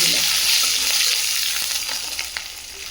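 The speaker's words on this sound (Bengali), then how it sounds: "রসুনগুলো ভালো করে ভাজা হবে," Garlic cloves, green chilies and mustard seeds fry in hot oil with a loud, steady sizzle, an occasional crackle and a stir breaking through. No one speaks.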